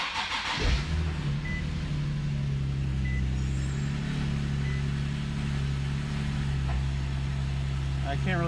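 A Nissan 370Z Nismo engine cold-starts with a quick cranking burst, then settles into a loud, steady high idle with a strong low drone, heard up close; a voice speaks briefly over it.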